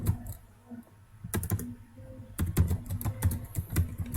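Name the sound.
typing on a computer keyboard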